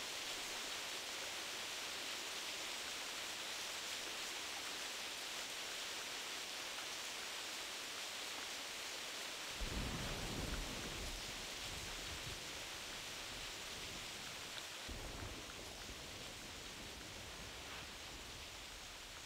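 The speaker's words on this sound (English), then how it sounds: "I just love those thunderstorms." Steady, broadband rain hiss from a thunderstorm in the hunting game theHunter Classic, set in Piccabeen Bay, with a heavier low rumble swelling in around the midpoint and again near the end, heard alone without any talk.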